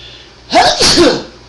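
A single sharp, close sneeze from a player at a tabletop role-playing game session bursts out loudly after a quiet room tone, with a short inhaled lead-in before the main burst.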